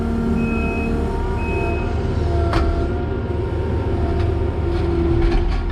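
A skid steer with a tooth bucket ripping a concrete sonotube out of a patio corner, its diesel engine droning steadily and loudly throughout, with a sharp scraping crack midway and metallic clunks near the end.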